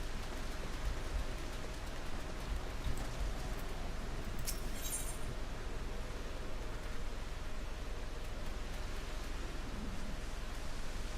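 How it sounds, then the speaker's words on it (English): Rain falls steadily in Final Fantasy XIV, a soft, even wash of quiet pattering noise with a faint low hum, continuing throughout without speech. "In the rain. Again."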